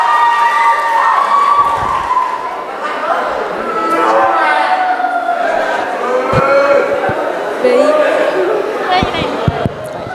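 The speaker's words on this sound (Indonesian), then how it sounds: "Oke, ya tepuk tangannya" Workshop audience cheering and clapping for candidates, a loud crowd of voices with shouts and whoops, some higher yells rising over a continuous hubbub throughout.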